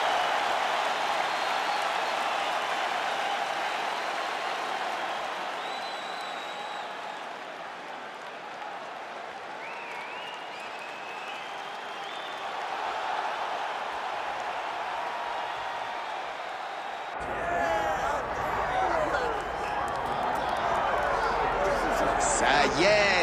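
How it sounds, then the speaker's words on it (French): A UFC arena crowd applauding as Rose Namajunas walks into the cage for her fight against Tecia Torres, a broad, distant wash of clapping and cheering under a commentator's voice, growing louder and closer near the end. "Rose Namajunas va entrer dans la cage sous les applaudissements du public"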